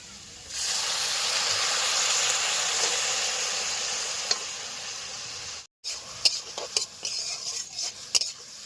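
Fried ginger, onion, garlic and chilli sizzle steadily in a pan, then after a short break a utensil scrapes and clinks against the metal in quick, uneven strokes.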